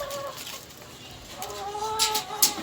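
Chinese bantam chicken, a bearded hen, clucking in a few soft, brief calls close by, with faint background noise and a couple of sharp bursts near the end.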